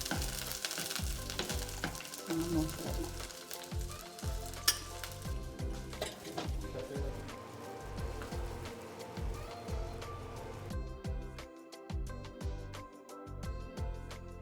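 Garlic frying in oil in a pan for a poomeen fish curry, a steady crackling sizzle close up with occasional stirring and scraping, running continuously without talk.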